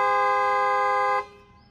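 Hydrosonic aftermarket horn fitted to a Maruti Swift, voiced like a Hyundai Creta horn, gives one loud, sustained, harmonically rich blast of just over a second, then cuts off and leaves a brief fading echo.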